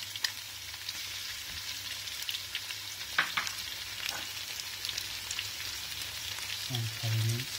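Ginger garlic paste sizzles and fries in hot oil for a chicken pulao, a steady close crackle with occasional stirring scrapes and no talk.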